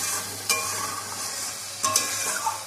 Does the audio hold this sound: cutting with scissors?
no